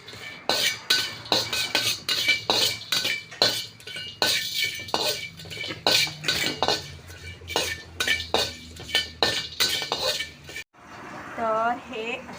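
Whole garam masala spices roast in a pan while a spoon scrapes and stirs, giving a steady run of metallic clinks and scrapes close by, with a brief pause before a softer stretch at the end.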